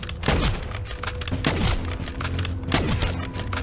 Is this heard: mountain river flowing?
no